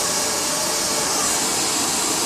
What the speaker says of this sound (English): I'm now making sure my hair dryer is facing in the direction that I want the hair to lay.